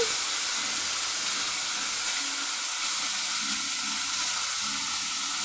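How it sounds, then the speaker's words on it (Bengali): Potatoes frying in oil in a wok with turmeric and salt, with a constant, even hiss of sizzling. "তেলটার মধ্যে আলুটা ভেজে নেব"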